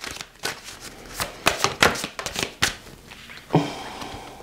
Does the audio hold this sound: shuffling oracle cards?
yes